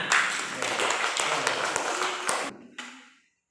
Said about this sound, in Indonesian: Iya betul, tepuk tangan